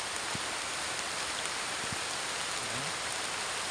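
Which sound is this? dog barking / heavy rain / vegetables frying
heavy rain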